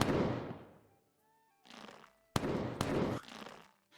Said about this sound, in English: can you hear the gunshots?